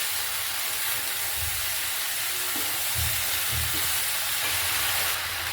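Fried chicken pieces are mixed together in a hot frying pan: a loud, steady hiss and sizzle continues throughout, broken by a few soft, low stirring bumps.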